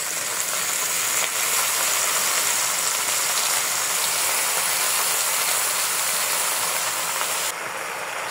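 Baby spinach hitting fried onions in a hot frying pan gives a loud, steady sizzle and hiss that runs without a break. It stays close and constant, with no talk over it.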